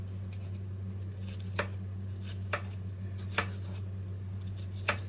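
A knife chopping onions on a board into small even pieces, four distinct, evenly spaced cuts over a steady low hum, without any talking.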